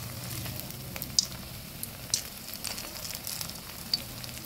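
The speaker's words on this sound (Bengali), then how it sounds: "ভালো করে লাল লাল করে ভেজে নেব।" Flattened rice cutlets dipped in cornflour batter sizzle in hot oil in a pan, a steady low frying hiss with a few soft pops and crackles, close and with no talking.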